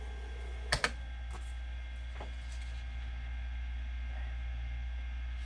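A few keys pressed on an Amstrad PC1512 computer keyboard: two sharp clicks close together, then fainter taps, all over a steady electrical hum.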